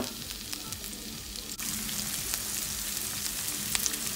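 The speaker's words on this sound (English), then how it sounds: "And then cook the onions for a few minutes." Onions sautéing in a pan after browned garlic, for a garlic broccoli dish: a steady, fairly loud sizzle with light crackle and occasional stirring scrapes, no talking.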